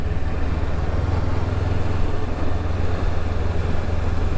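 A Honda CB500X motorcycle rides along a road, its engine a loud, steady low drone mixed with dense wind rush throughout, with no talk.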